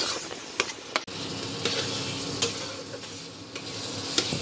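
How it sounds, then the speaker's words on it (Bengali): Spices for a jackfruit and prawn curry sizzle steadily in a hot pan, with repeated scraping and clinks of a stirring spoon sounding through the continuous frying hiss. "এখন মশলাটা কষানো হয়ে গিয়েছে"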